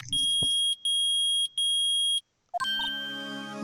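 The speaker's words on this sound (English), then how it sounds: "The metal detector's found something! Sure is loud enough about it." An electronic metal detector in Phoenix Wright: Ace Attorney beeps loudly in three sustained, evenly spaced tones, followed by a rising chime and a held ringing tone.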